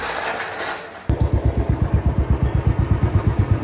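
A motorcycle ridden on a street, its engine starting abruptly after a second of background noise and then thumping in a fast, regular pulsing rhythm, loud and close.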